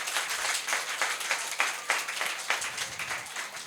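Audience applause at a Jain temple moral-education camp closing ceremony, a dense, steady patter of many hands clapping together, moderately loud and continuous throughout.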